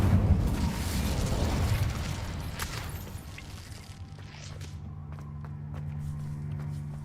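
An Incendio fire spell from Hogwarts Legacy erupts in a loud whooshing blast that fades into crackling flames and a lower rumble, with a few sharp pops scattered through it.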